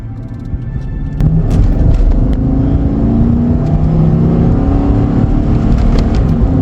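A 2011 GMC Sierra 1500 pickup truck drives along with a steady low engine rumble and road hum, the drone holding level and close from the cab throughout.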